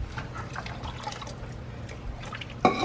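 One and a half cups of water poured into a dinner recipe in a home kitchen, with light dripping and splashing through the clip and a louder burst of pouring liquid at the end.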